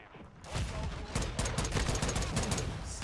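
Rapid bursts of gunfire in the Modern Warfare 2 game, a dense stream of sharp shots over a continuous noisy game background, fairly quiet in the mix.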